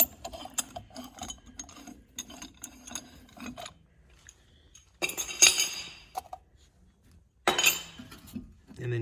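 A C-clamp is backed off a brake caliper piston on a Pontiac G6, giving scattered metallic clinks and ratcheting clicks up close, with two louder clattering bursts toward the end.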